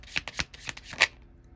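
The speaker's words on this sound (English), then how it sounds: "Let me shuffle." Tarot cards being shuffled by hand, a series of crisp, close riffling bursts at an uneven rhythm that fade into quiet, with no talking.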